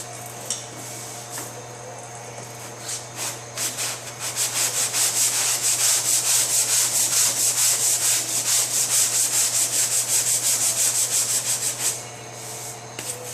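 Fresh paint being wet-sanded by hand on a 2005 Honda S2000 body panel under repair, starting with a few scattered scrapes, then a rhythmic run of close, loud back-and-forth rasping strokes that stops near the end.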